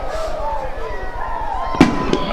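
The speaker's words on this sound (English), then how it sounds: "some fireworks in downtown York behind the Think Loud building" Fireworks go off over downtown York during a minor-league baseball game, with two sharp booming bursts, the first louder, heard at a distance beneath ongoing play-by-play commentary and a low stadium hum.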